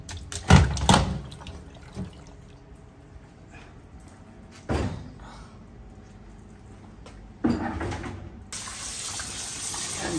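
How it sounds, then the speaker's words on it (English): Cold water gushes from a tap over chicken pieces in a colander in a sink, part of bulk-cooking two 10 kg batches. It comes in short splashing bursts with quiet gaps, then runs steadily near the end. "just going to rinse the chicken in cold water"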